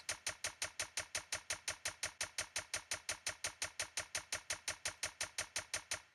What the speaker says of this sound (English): The hi-hats sound like this.